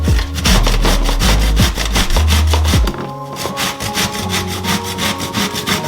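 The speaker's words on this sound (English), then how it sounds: "And now we are just gonna grate all of our zucchini." Rhythmic, close scraping strokes as a zucchini is rubbed down the large-hole side of a cheese grater, fast and heavy at first, then lighter and more scattered, with no voices.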